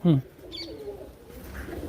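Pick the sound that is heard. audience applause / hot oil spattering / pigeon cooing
pigeon cooing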